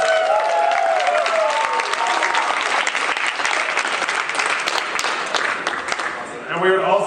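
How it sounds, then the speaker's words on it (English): Dense, loud audience applause at a startup pitch event, thanking the sponsors. Many hands clap in a steady wash that thins toward the end, with a voice speaking briefly at the start and again at the close. "give a round of applause"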